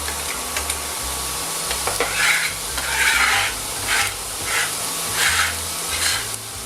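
Shallots sweat gently in a pan, a soft steady sizzle and hiss with occasional stirring scrapes, close and fairly quiet.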